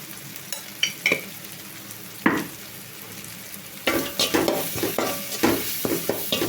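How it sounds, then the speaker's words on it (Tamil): Masala and Maggi noodles are stirred in a frying pan, a soft sizzle running under repeated scraping strokes that grow busier and louder in the second half, with no talking. "இதெல்லாம் கிளறி விடுங்க"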